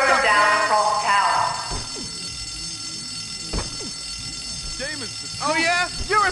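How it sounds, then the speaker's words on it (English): A ringing electronic alarm in the Bully video game, loud at the start and then fading, as game voices and character shouts carry over it in later bursts. "Wasting their time responding to this false alarm"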